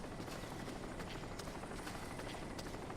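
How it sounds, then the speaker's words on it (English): A helicopter in the video game Crysis Warhead, a low continuous rotor thrum and engine drone that stays quiet and steady, as if hovering some distance away. "I hear a helicopter though."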